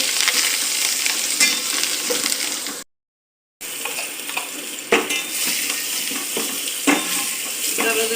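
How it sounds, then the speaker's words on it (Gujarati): Garlic, onions and green chillies fry in hot oil in a pan, making a close, steady, loud sizzle with occasional stirring knocks. The sound drops out briefly near the start, with no talking. "લસણ મસ્ત કપડી ગયું એટલે પછી આપણે કાંદા નાખી દીધા છે"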